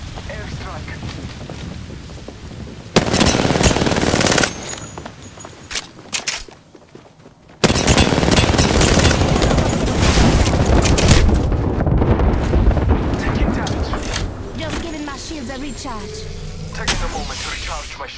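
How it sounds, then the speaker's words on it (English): An airstrike in the Apex Legends video game erupts in heavy, crackling bursts of explosions, a short volley followed by a longer sustained barrage that rumbles on for about ten seconds. "Airstrike."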